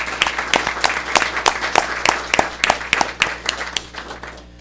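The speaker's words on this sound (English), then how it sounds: "Have a little round of applause." A small group clapping at a board meeting, sparse distinct hand claps in an uneven rhythm that thin out and fade after a few seconds, heard close in a room.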